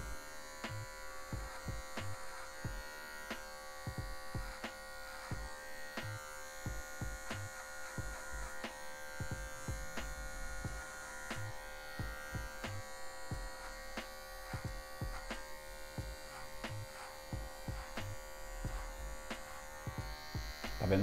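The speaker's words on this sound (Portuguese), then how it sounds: "Usa a maquininha na zero mesmo aqui, ó." An electric hair clipper buzzes steadily and close while cutting short afro hair for a mid fade, with brief strokes and clicks against the hum, and a person talking softly over it.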